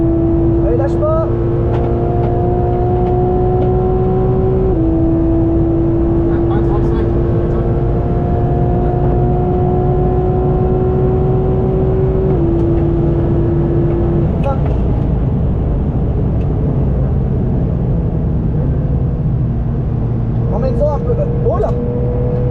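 A race car accelerates hard on the Dijon-Prenois circuit, its loud, close engine note climbing steadily and then dropping at each gear change, over several upshifts.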